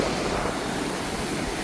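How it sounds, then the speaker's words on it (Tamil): Sea waves crash and roar on the shore at Mullaitivu in a loud, unbroken wash of surf, with wind noise mixed in. "பயங்கரமாக அடிக்குதா தண்ணி"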